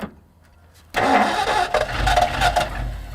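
A 1964 Ford Galaxie big block engine cranks and catches abruptly after a quiet moment, then settles into a rough, loud, uneven idle with throaty surges, close up in a junkyard.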